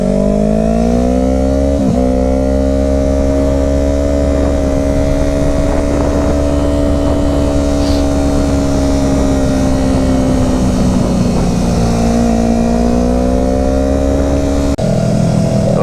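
Motorcycles ride on the road toward a cars-and-coffee car show, a loud continuous engine drone with shifting pitch as the rider changes gear and speed, heavy wind rumble underneath.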